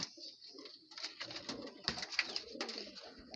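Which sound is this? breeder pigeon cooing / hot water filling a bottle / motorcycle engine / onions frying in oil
breeder pigeon cooing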